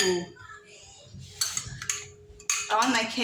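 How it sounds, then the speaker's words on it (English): Dry ingredients are folded into red velvet cake batter, with a utensil scraping and clinking against a bowl in short, close bursts separated by brief pauses. "I'm going to fold my dry ingredients"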